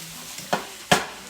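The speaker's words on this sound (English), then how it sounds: "We'll leave the mushrooms sizzling a bit." Mushrooms sizzle in a hot pan, punctuated by a few scraping stirs and bursts of crackling.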